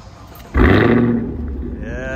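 Chevy Camaro ZL1 V8 firing up by remote start, a sudden loud roaring burst that settles into a steady, throaty idle close by.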